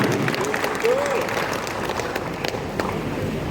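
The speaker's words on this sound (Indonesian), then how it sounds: "kita beri tepuk tangan kepada Dewan Pakar" An audience at a political movement gathering applauds the expert council, a steady mid-level wash of clapping with a brief voice rising over it early on.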